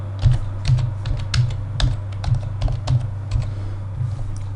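Rapid irregular keystrokes on a computer keyboard as a password is entered, close and crisp, about a dozen clicks over a few seconds with no talking.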